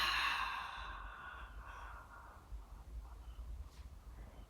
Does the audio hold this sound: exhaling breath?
yes